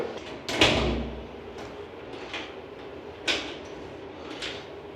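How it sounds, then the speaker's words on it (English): Apartment door being locked: a sharp knock-like clunk of the latch early on, followed by several lighter clicks and rattles of the lock and handle, close up in a quiet room. "You'll try to lock the door."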